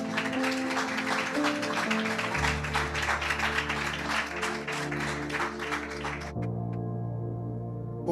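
Church congregation applauding during a Brazilian evangelical service, a steady wash of clapping over sustained music, with the applause thinning and fading near the end as the music carries on.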